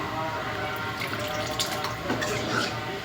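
Water pours into a cooking pot of black-eyed peas and dry fish curry, a steady splashing, gurgling flow heard close up with faint background noise.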